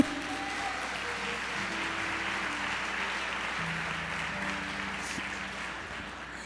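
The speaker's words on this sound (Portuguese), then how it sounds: "Queria que vocês aplaudissem a Deus por mim" Audience applause at a church gathering in Goiás, a steady broadband wash of clapping lasting several seconds, fairly even in loudness and tapering slightly at the end, with faint tonal voices or music underneath.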